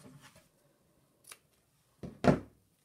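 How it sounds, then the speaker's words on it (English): Scissors cutting a piece of ribbon: a couple of quiet, crisp snips close by, with the last cut louder and fuller, set against near silence. "But you're going to cut off a piece of ribbon"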